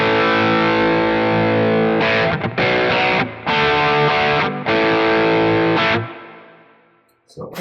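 Schecter MV6 electric guitar through gain distortion, bridge single coil then bridge humbucker, loud sustained chords with a few short gaps between strums, ending in a fading ring and a last faint strum, no talk.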